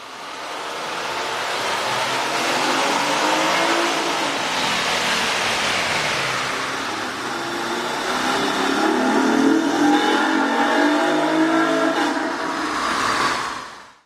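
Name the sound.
Honda Accord 3.5L engine revving with K&N air intake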